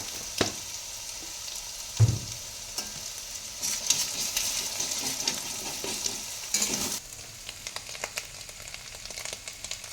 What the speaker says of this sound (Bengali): এটা ভেজে ডিমটা ভাজবো।